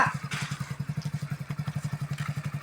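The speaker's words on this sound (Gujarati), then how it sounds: "બાઈક આવે છે" A motorcycle engine idles nearby as the bike arrives, a rapid, steady thumping putter, fairly quiet, with faint background clatter.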